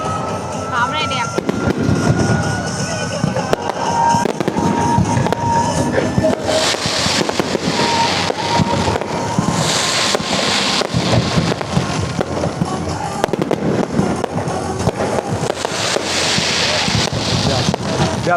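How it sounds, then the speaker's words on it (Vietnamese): Fireworks display over Vu Yen Island in Thuy Nguyen, Hai Phong: repeated loud bursts and crackling explosions in quick succession, with spectators talking and exclaiming over the blasts. "Pháo này đẹp."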